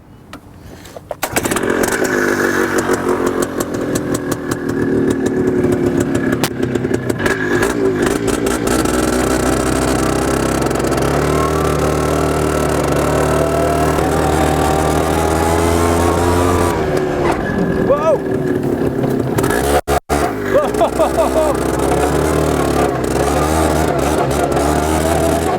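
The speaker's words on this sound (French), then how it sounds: "le système du moteur, là, c'est un moteur de scooter" Small direct-drive vehicle powered by a scooter engine without a gearbox, running loud and close with a sustained buzzing drone that rises and holds, briefly dipping before picking up again, with no voices.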